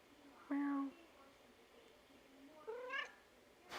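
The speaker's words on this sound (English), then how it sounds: "She meowed. I don't know if you heard her." A house cat meows twice, a short cry and then a longer, rising one a couple of seconds later, close by and fairly faint in a quiet indoor room.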